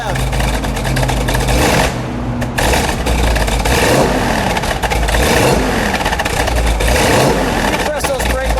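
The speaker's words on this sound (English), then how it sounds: "Gregory, give it a little rev." A car engine revs up and drops back at close range over a steady idle, loud and continuous, with people talking over it.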